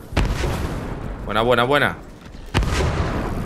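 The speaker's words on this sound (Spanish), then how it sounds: "Explosiones por doquier." Explosions go off during a boss fight in LEGO Fortnite, with two sharp, loud booms near the start and again after a couple of seconds, and someone speaking excitedly between them.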